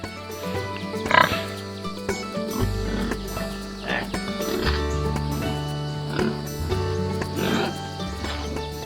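Pigs on an outdoor farm grunt and oink in repeated short bursts close by, over a steady low hum and scattered animal noises, with no talking.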